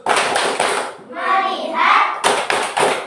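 A classroom 'tepuk fokus' clapping chant: children clap a quick rhythmic pattern, pause for a short sung chant, then resume clapping in the same brisk beat, close and lively.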